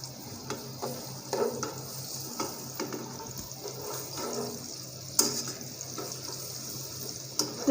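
Carrots for Chinese fried rice frying in a pan, a soft steady sizzle with repeated scraping stir strokes and a sharp clack near the middle, close and moderately quiet with no talking.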